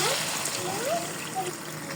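Water is poured into a cooking pot holding rohu fish curry with pointed gourd and potatoes, a steady close splashing wash with a faint voice or tone in the background.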